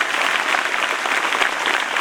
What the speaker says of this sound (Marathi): तर त्या सगळ्यांसाठी एकदा टाळ्या वाजवा प्लीज